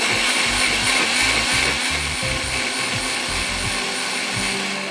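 An electric grinder whirring loudly as it grinds soaked Kashmiri red chillies, a steady high-pitched motor whine with rattling, chopping pulses underneath, continuous and close, no talking.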